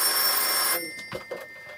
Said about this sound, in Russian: Вот у нас сразу звонят.